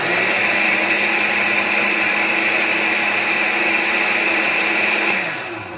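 Blender crushes ice for a chocolate strawberry coconut smoothie, a loud steady motor whir running continuously and close, then winding down at the very end.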